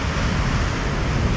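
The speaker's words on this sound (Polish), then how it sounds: "najgorzej jak idzie taka duża fala" Steady, heavy roar of large ocean waves crashing on a remote wild Scottish beach, broadband and continuous with no pauses or voices.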